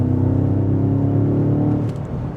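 A 2025 BMW M5 Touring with about 727 horsepower pulls at half throttle from 100 to 140 km/h on the autobahn. A loud, steady engine drone fills the cabin and eases off slightly near the end.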